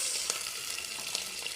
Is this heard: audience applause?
no